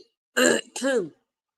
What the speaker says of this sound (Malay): batuk saya tak hilang lagi